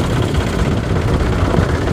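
A tractor engine running close by, a loud continuous low rumble with steady vibration and no break over a short stretch.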